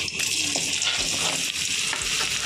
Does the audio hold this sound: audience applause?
no